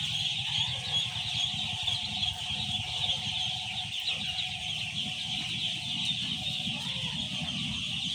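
Four-day-old ducklings on a farm keep up a continuous chorus of high peeping calls, steady and close, over a low rumbling background.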